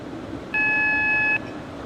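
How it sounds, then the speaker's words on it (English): An alarm in the cab of a DB BR442 Talent 2 train in Train Simulator on the Munich–Rosenheim route: one steady electronic beep lasting under a second, loud and clear over a low background. "This thing is still doing the alarm"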